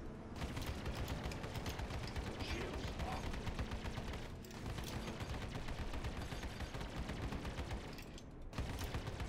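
Rapid ship cannon fire from a Gladius fighter in Star Citizen co-op combat against a Vanduul swarm, a dense continuous rattle of shots with two brief pauses, loud and close throughout.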